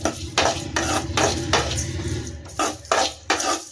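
Prawn thokku masala with tomatoes and salt sizzles in a pan while a spoon stirs and scrapes it in regular strokes, producing close, rhythmic clatters over a soft frying hiss.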